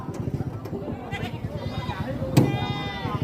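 A goat bleats in short quavering cries at a Filipino goat restaurant setting, close and fairly loud, mixed with chopping knocks and people talking nearby.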